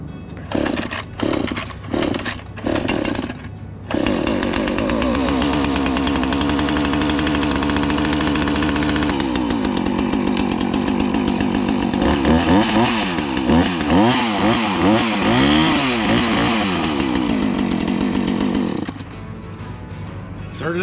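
A Husqvarna Rancher chainsaw is pulled several times in quick rhythmic cord yanks, then fires up and runs loud and close, idling steadily before revving in repeated wavering bursts and settling back.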